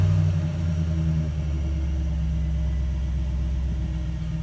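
A truck engine idles with a steady low rumble and faint mechanical hum, running evenly at close range without any voices.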